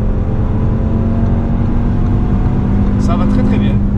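A 2018 Audi RS3 with 400 hp pulls out to overtake on an open road, its engine a loud, steady drone heard from inside the cabin, with brief higher-pitched sounds near the end.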